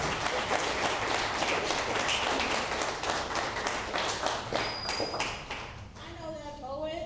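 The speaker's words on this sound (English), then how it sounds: "a big round of applause for the one and only" A crowd applauds a poet at an arts event finale, dense clapping carrying on strongly before thinning out, as a voice and a short tone come in near the end.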